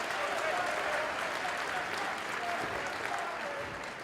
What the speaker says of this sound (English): Crowd trying to get Sammy back to his feet.